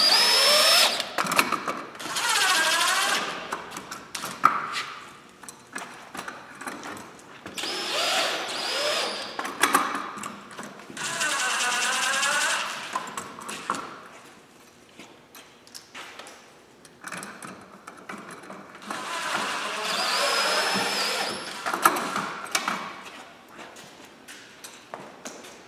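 A cordless drill with a long extension drives screws into purlin holders in several whirring bursts, each rising and stopping, separated by short pauses.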